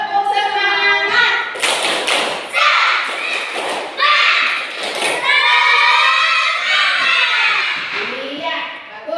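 Indonesian first-grade schoolchildren in a classroom do a rhythmic spirit clap, a lively sequence of claps and thumps mixed with their chanting voices, loud and close for several seconds.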